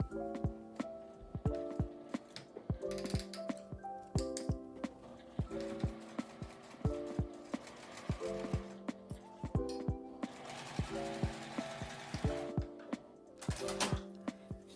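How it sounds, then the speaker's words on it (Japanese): A sewing machine stitches a seam with a 5 mm allowance on a small zippered fabric pouch, giving repeated rhythmic mechanical clatter and ticking in bursts with short pauses between runs, close and clear. "折り目に合わせて挟んで5ミリの縫い代で縫います。"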